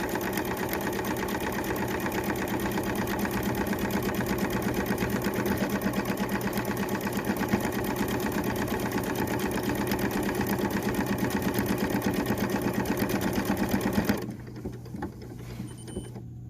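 A sewing machine stitches a buttonhole in fabric, a fast, steady, rattling mechanical drone that runs loud and unbroken for about fourteen seconds, then stops abruptly, leaving faint room noise.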